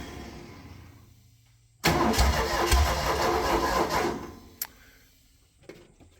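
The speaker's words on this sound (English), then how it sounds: "Governor works. Pretty cold-blooded. Probably just the carburetor's filthy." A V8 engine-driven air compressor with a dirty carburetor cranks and catches, then runs loud and rough for about two seconds before dropping back, followed by a brief sharp knock.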